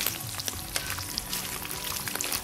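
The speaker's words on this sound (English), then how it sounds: "These are very, very fast to fry, and you just have to be careful not to burn these." Paneer pieces frying in a pan for aloo mattar paneer, a soft, steady sizzle with light crackles and small pops, faint and close.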